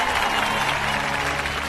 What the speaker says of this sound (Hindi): ताली बजाओ ताली